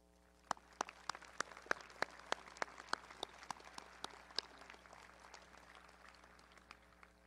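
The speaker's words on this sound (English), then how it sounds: "Please join me in giving them a round of applause." At the 2023 Bethel Park High School commencement, sparse, distinct claps ring out in a quick, even rhythm for mentors, sounding like only a few hands nearby, and they gradually thin and fade over several seconds.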